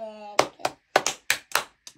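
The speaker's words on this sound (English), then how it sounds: "Quick, clap again." Hands clapping in the Oh Mina clapping game played by a girl and her team: a run of sharp, close claps in an uneven rhythm, around six in two seconds, with brief singing heard just before them.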